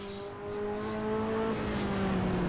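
A Ferrari F40 engine in Assetto Corsa drones steadily and loudly with a clear harmonic whine, the pitch easing slightly lower while it drops to a lower gear, with no voices.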